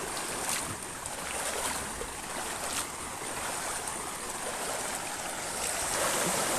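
A river flowing steadily over a streambed, a continuous broadband rush of moving water close by, even and unbroken with no voices, heard while heading upstream on a fishing trip.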